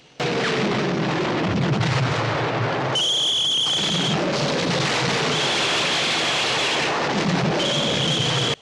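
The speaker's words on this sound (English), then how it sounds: "with bombs blasting off at every moment" Bombs burst during battle in the 1957 war film Paths of Glory, a continuous heavy rumble of blasts with rolling booms and high whistling tones cutting in and out, loud and with no voices.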